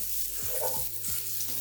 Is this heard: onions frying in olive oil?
yes